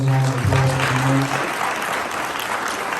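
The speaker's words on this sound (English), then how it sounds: "let's just give everyone a round of applause" Audience applause for panelists at the close of a Minority Scholars panel event, dense and steady clapping from a crowd, with a voice speaking over the start.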